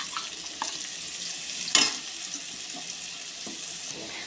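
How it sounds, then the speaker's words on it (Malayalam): Sliced onions hit hot oil in a pan while a biryani is made, giving a soft, steady hiss with a brief sharper crackle midway, fairly quiet and close, no voices. "ഇനി നമുക്ക് ഈ എണ്ണയിലേക്ക് അരിഞ്ഞു വെച്ചിരിക്കുന്ന സവാള ചേർത്ത് കൊടുക്കാം"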